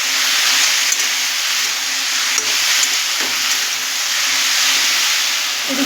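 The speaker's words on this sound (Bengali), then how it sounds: "এবার এটাকে আমি ভাজা ভাজা হতে দেবো।" Fish oil frying with turmeric in a hot pan gives a steady, loud sizzle and hiss, with a few faint clicks from the pan and no voices.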